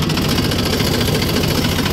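A Massey Ferguson 245 DI tractor engine pulling in third gear makes a loud, close, steady chugging drone with a fast even pulse and no talk.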